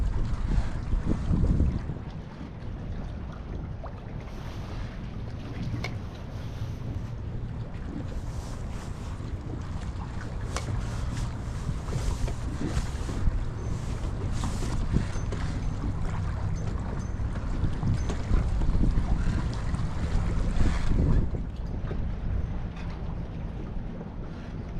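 Strong wind buffets the microphone on a dock during crab jig fishing, a continuous roaring gusty noise with water lapping beneath, loud throughout with surges near the start and end.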